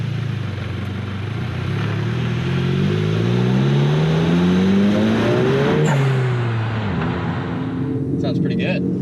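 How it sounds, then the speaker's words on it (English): Engine of a VW Golf MK7 GTI fitted with an HKS blow-off valve, running in sport mode with rally-style driving: revs rise and fall in steady sweeps, then a sharp release near the end, loud and continuous under people talking. "That is the HKS blow-off valve."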